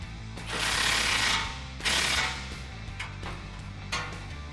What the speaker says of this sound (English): Using a 16mm socket and wrench, tighten this down.